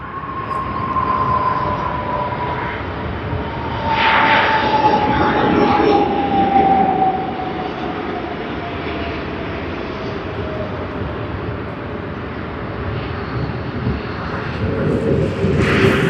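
Qantas 42, an airliner in from Jakarta, arriving at Sydney Airport, a loud sustained jet engine roar with a slowly falling whine, swelling and easing across the whole stretch, heard at moderate distance.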